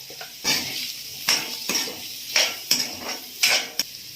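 Paneer curry with masala frying in a pan at home, stirred with a utensil that scrapes and clinks against the metal in a series of loud strokes over a low background sizzle, with no talking.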